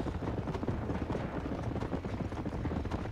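A group of horses gallops in Red Dead Redemption during a barn fire, with dense, continuous hoof clatter that stays steady and loud throughout and no talk.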